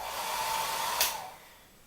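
A Philips Turbo 1000 hair dryer blowing with a loud, steady airy roar, which swells briefly and then eases off toward the end.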